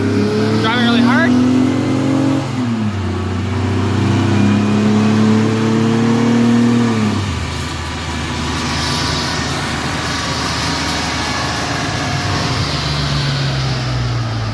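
A car on a chassis dyno run driven hard, the engine climbing loudly in pitch through the gears with shifts, then dropping to a lower drone after the pull ends.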